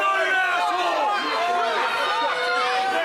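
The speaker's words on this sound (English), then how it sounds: "The crowd is not happy about that one, not one bit." A wrestling crowd at a six-man tag team match rumbles with loud, dense, close-sounding vocal reaction, a sustained wash of many overlapping voices throughout.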